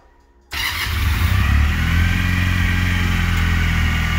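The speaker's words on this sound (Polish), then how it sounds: "To jest oryginalny wydech." A Junak M15 motorcycle with its original stock exhaust fires up after a short silence, then settles into a steady, loud, close idle rumble that carries on without any talk.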